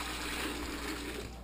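Fresh carrot juice dumped from a juicer into a container, foam and all, makes a steady close gushing pour that holds for about a second and a half before cutting off.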